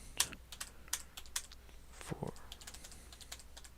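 A computer keyboard on a Windows 7 machine is typed on as wrong passwords are entered at the login screen: irregular, close, crisp keystroke clicks in short bursts, with no voices.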